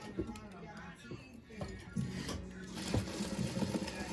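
A sewing machine stitching fabric, quiet bursts of needle chatter that start and stop in short runs, with a person speaking nearby between and over the stitching.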